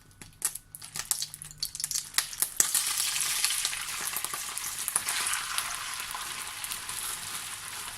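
Coconut oil in a hot pan bursts into a loud, close, continuous sizzle after a few scattered crackles and taps, then holds a steady frying hiss.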